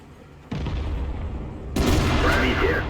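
A KV-2 heavy tank fires its cannon in a video game, two heavy booming blasts a little over a second apart, each leaving a sustained rumbling roar.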